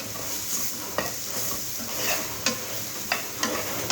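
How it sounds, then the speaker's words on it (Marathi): Bitter gourd with spices is stirred and fried in a pan, a steady sizzle under repeated sharp scrapes of the spoon at irregular intervals, close and clear with no talk. "छान गुलाबी रंगावर भाजून घेऊ कारले टाकून घ्यायचे आहे"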